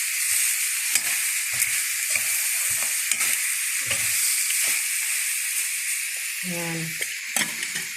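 Vegetable oil sizzling in a pan, a steady close hiss of frying with repeated scrapes and knocks of stirring throughout, while a voice speaks briefly.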